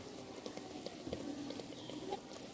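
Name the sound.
dish still bubbling after being taken out of the oven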